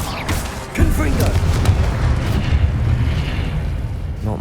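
A shouted spell call in Hogwarts Legacy sets off a Confringo explosion: one sharp booming blast, then a roaring, rumbling tail that lingers loudly for several seconds.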